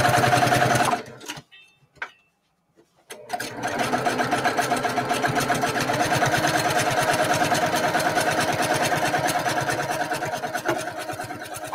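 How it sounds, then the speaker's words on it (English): Sewing machine running steadily while attaching a piece to a Kimberbell mini-quilt, a fast even stitching hum that stops briefly near the start, then continues for several seconds, close and moderately loud. "Now I'm ready to just sew this on right here like this."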